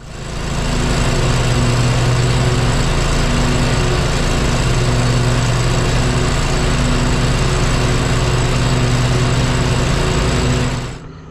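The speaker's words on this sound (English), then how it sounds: "I'm going to mow grass until supper." Lawn mower cutting grass, its small engine buzzing loudly and steadily up close with a constant whine, running alone for several seconds before cutting off.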